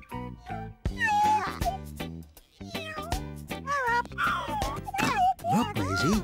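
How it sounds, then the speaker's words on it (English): Cartoon cat meows from a small black cat in a children's animated show, several rising and falling calls over a musical score. "Hello, little black cat."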